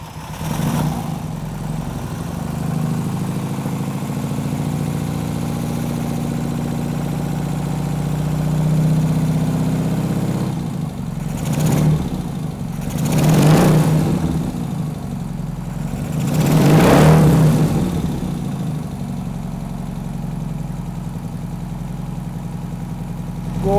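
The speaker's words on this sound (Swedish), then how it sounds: "Väldigt lugnt och fint på tomgång." An old car engine idles smoothly in a garage after a carburetor adjustment, a steady low hum with a few brief swells in pitch, heard alone without talk.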